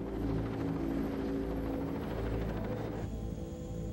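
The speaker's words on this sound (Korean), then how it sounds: "The sounds of the helicopters keep coming." Steady, loud rotor drone of helicopters dominates throughout, a dense low throbbing hum with a faint high whine creeping in near the end.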